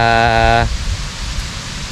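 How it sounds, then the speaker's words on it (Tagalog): Rain falls steadily at an outdoor campsite sheltered under a tarp, a dense broadband hiss running throughout after a short voiced tone at the start. "Kaso yan ang ulan."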